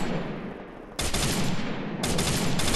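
Gunfire in the mobile battle royale game Garena Free Fire Max: a steady stream of distant firing, then two loud bursts of rapid shots that cut in sharply, without any talking.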